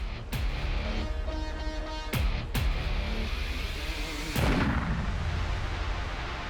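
Gun shots from Captain Cook's firearm in a standoff with Hawaiian warriors, several sharp reports at irregular intervals, each with a brief ringing tail and a heavier blast near the end, over a steady rough background.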